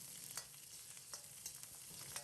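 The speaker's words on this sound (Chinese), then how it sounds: "先把葱段煎出香味" Scallion pieces fry gently in a little hot oil, producing a soft, continuous sizzle with faint crackles and occasional light stirring taps, fairly quiet and with no voices.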